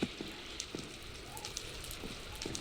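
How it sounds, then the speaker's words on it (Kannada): Heavy rain in the Minecraft video game, a steady hiss of falling drops with faint scattered taps, continuous and fairly quiet with no voices. "ಸಿಕ್ಕಾಪಟ್ಟೆ ಜೋರಾಗಿ ಮಳೆ ಬರ್ತಾ ಇದೆ"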